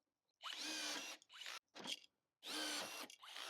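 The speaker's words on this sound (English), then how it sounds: "we will need to drill out 2 holes with a 3/16 drill bit" A power drill with a 3/16 bit whirs in several bursts, each lasting about a second, with short pauses between them as it bores holes in a Ford Escape for trailer wiring.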